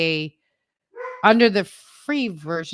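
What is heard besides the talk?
dogs barking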